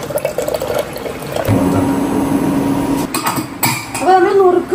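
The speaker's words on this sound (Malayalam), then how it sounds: "ഗോതമ്പ് കഴുകി വൃത്തിയാക്കി" Wheat grains being washed by hand in a vessel of water for payasam, with sloshing, splashing and clinking of the container against other utensils, close and fairly loud, with a faint voice toward the end.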